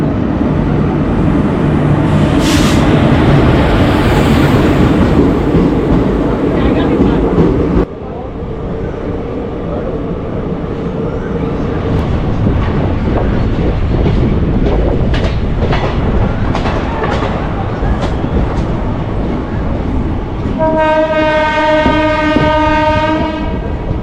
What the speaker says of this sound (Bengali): 13506 আসানসোল দীঘা এক্সপ্রেস 2 নম্বর প্ল্যাটফর্মে আসছে